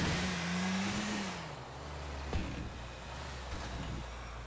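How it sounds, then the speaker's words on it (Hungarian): A car engine in GTA 4 keeps running and refuses to shut off, a steady low rumble with a brief revving tone at the start and a soft thump midway, moderately quiet and with no talking. "Nem akar leállni a motor."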